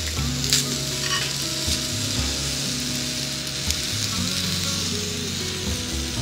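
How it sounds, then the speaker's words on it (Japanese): Meat sizzles steadily on a hot grill at a campsite, a close, continuous crackle with faint pops, and a voice speaks briefly over it. "ジュージュー言い始めた。"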